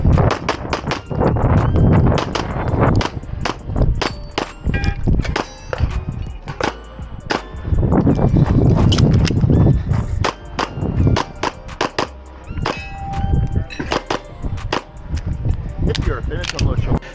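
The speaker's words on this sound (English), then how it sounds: "Shooting the steel in the front" At a Wyoming Governors shooting match, rapid gunshots ring on steel targets in quick, loud, uneven volleys, with footsteps and movement and some talk mixed in.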